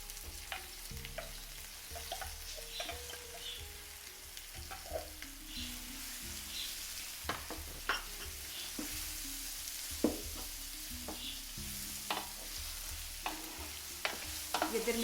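Tomatoes and ginger garlic paste fry for dalcha, giving a steady sizzle broken by frequent stirring clinks and scrapes from a utensil, all close and alone.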